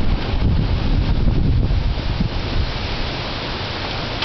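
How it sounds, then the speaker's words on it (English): Strong wind in a tropical storm from an unnamed low-pressure system, a loud continuous roaring rush buffeting close to the microphone, easing slightly toward the end. "Starting to get really windy now."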